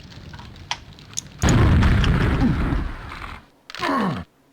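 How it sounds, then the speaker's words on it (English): A rocket jump explosion in a Quake-style dungeon shooter sounds as a loud, sustained booming blast that decays over about two seconds, followed by a second shorter burst with a falling groan-like tail. "And I just rocket jumped into that pillar thing"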